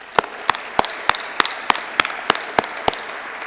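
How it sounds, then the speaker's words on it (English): Slow, evenly spaced claps, about ten sharp hits roughly every third of a second, moderately close and fairly faint, for a family honored at a TAPS leadership award event for coach Dan Quinn. "let's give them a round of applause"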